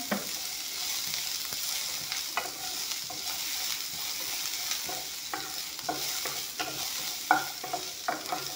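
Panch phoron whole spices frying in hot oil in a pan, a steady loud sizzle with repeated scraping and clinking as a spoon stirs them, no voices.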